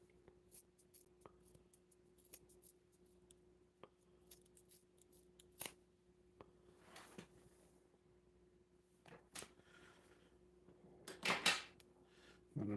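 Scissors trim strands of a braided bullwhip cord, a 28-plait whipmaker cord being reverse braided. The snips are quiet, sharp and irregular, and a quick cluster of louder cuts comes near the end.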